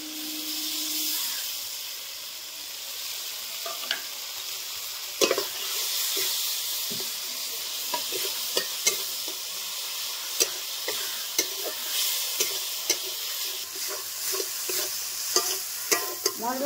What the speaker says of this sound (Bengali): সামান্য একটু জল দিয়ে ভালো করে কষিয়ে নেব।